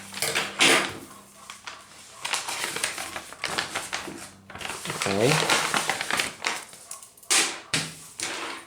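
Plastic packaging around a lanyard being torn and crinkled open, a run of close, bright crackling and rustling bursts with a voice talking over parts of it.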